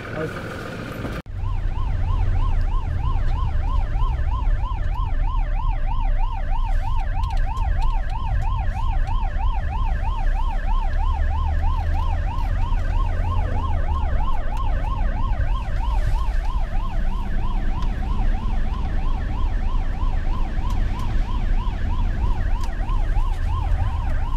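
An emergency vehicle siren wails continuously at close range, its rapid up-and-down warble steady and loud over a low rumbling background from start to finish.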